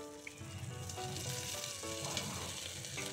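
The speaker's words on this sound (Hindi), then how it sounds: "और फिर दोनों को अच्छी तरह से भून लेंगे" Chopped tomato frying in a pan with garlic and ginger, giving a steady close sizzle with faint stirring scrapes, fairly quiet and continuous without any talking.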